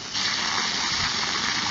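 Water gushes steadily from a hose into a hole at a broken reticulation pressure pipe T-joint, flushing out sand; a loud continuous hissing rush that starts abruptly and holds even.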